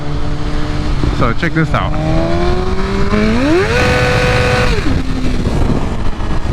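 A 2023 BMW S1000RR sportbike revs hard and spins its rear tire, running about 35 PSI, in a burnout, engine pitch climbing and holding at a high wail before dropping back, loud and close with someone talking over it.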